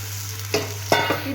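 Rasam is poured into a hot pan of sautéed shallots, giving two quick splashing bursts that break into a loud sizzle over a steady hum, close by and without talk.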